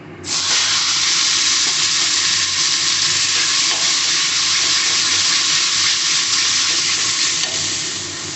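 A paste of ground onion, ginger, garlic, coriander, cumin and tomato sizzles loudly and steadily in a hot pan for a prawn, potato and pointed gourd curry, with an unbroken close hiss and crackle and no talking.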